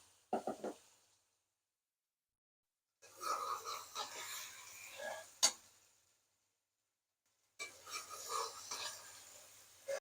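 Chicken, about one and a half kilos, going into a biryani pot with spices and being stirred, heard as two bursts of scraping and rustling separated by silence, with a sharp clink in the middle.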